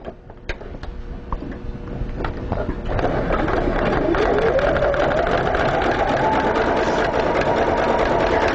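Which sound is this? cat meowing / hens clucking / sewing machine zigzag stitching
sewing machine zigzag stitching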